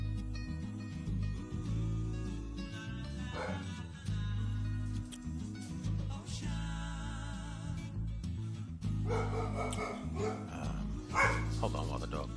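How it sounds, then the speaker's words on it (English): A dog barks at a distance in a series of sharp woofs, half-buried beneath steady game or machine background noise and someone talking over it. "Hold on while the dog barks at nothing."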